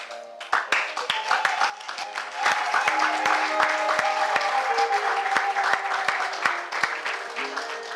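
A church congregation at an Easter conference applauds warmly, a dense, steady wash of many hands clapping with scattered sharp claps, while a voice speaks over the crowd.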